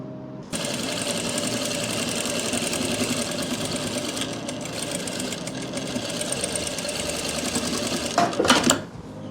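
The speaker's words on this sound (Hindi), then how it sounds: "ऐसे ही आपने दूसरी तरफ सिलाई लगा देनी है" A sewing machine stitches a seam on an Afghani salwar, running as a steady close mechanical whir with a rhythmic needle clatter for several seconds, then a brief burst of louder handling at the end.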